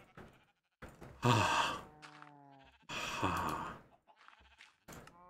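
A Minecraft sheep bleats twice in the Skyfactory 4 modpack, each call a wavering, nasal cry, heard clearly and up close with a short pause between them.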